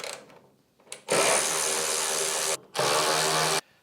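A ratchet undoes the 10mm bonnet hinge bolts on a Vauxhall Chevette, giving two loud, close, buzzing bursts, one longer and one shorter, separated by a short gap after a faint lead-in.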